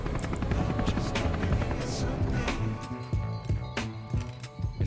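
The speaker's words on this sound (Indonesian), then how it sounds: "dikejutkan dengan kedatangan sebuah helikopter" A helicopter arrives with steady rotor chop and engine roar, loud and continuous, while a voice talks over it.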